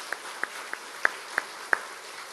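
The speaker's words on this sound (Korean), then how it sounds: "그렇다면 우리 큰 박수로 하나님께 영광 돌립시다." A handful of separate, fairly faint claps in a church during a sermon, spaced unevenly over soft room noise, with no voices.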